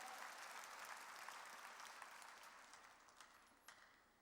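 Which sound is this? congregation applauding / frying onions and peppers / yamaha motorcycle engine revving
congregation applauding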